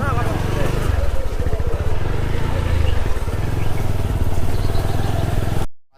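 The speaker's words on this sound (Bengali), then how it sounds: "তো আমরা অবশেষে আমাদের বাইকে চেপ করেছি" A motorcycle rides along a rural village road in Bengal, its engine a close, steady throbbing drone that cuts off abruptly at the end, with voices heard over it.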